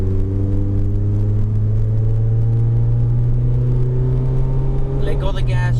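An automatic car engine hums and pulls in second gear, a loud close steady drone with rising pitch, while someone talks over it.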